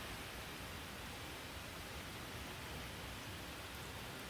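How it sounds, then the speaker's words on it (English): Steady rain pours outside during a storm, a dense, even hiss that holds at the same level throughout with no breaks and no voices. "having a beautiful time just listening to the rain."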